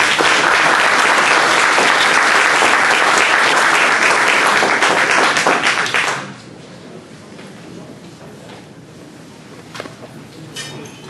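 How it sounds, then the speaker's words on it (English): Loud, dense applause from the audience at a renewable energy panel on tidal energy, sustained for several seconds and then stopping abruptly, leaving quiet room noise with a few faint taps. "a big round of applause for our panelists"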